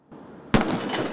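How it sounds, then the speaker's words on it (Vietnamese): A ceremonial 21-gun cannon salute fired at Tiananmen Square during an official state welcome; one sharp blast lands mid-clip and leaves a rumbling tail, following a quieter outdoor hum. "Tại quảng trường Thiên An Môn, 21 phát đại bác được bắn lên chào mừng khi Tổng Bí thư Nguyễn Phú Trọng"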